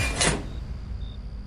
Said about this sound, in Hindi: कबीर ने अंदर से दरवाजा बंद करके अंदर से कड़ी लगा ली